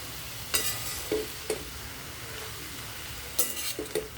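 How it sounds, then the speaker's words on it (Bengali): Bitter gourd leaves stir-frying in a pan sizzle gently while a spatula scrapes through them in several separate, sharp strokes, near and clear, with quiet hissing between strokes and no speech. "নেড়ে চেড়ে ভালো করে"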